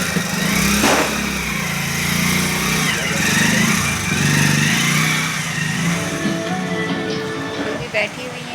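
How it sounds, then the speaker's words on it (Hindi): A car's engine runs steadily as it is driven up to a house, a continuous mid-loud hum with a louder swell near the start, heard beneath ongoing talk. "ये लेके आ रहे हैं समायरा के पापा भी गाड़ी।"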